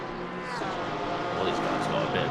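Race cars in Assetto Corsa Competizione drone through the corners at Watkins Glen, a steady, fairly distant engine whine with rising and falling pitch under a faint background hum.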